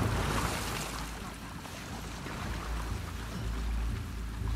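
A stolen boat moving across open water in The Last of Us Part II, with a steady broadband wash of spray and churning waves and a low engine rumble underneath, close and continuous with no talk.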